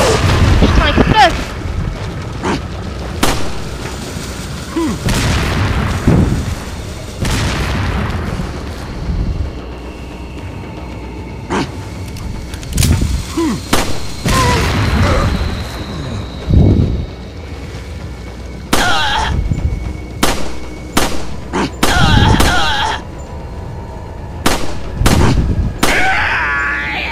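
Explosions in the Resident Evil 4 video game, a series of loud booming blasts and sharp bangs spread across the stretch, some rumbling and fading, with intermittent talk in between.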